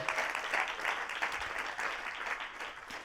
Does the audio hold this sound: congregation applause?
yes